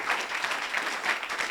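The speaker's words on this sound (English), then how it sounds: "Is that how you are clapping your hands?" Church congregation clapping hands during a sermon, a brief burst of steady, moderately loud clapping with no speech over it.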